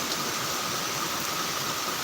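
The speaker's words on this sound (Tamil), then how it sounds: "தற்சமயம் கனமழை பெய்து வருகிறது மிக கனமழை பெய்து வருகிறது" Heavy rain falls in Chidambaram as a steady, dense hiss, continuous and even, with no voices or other sounds breaking through.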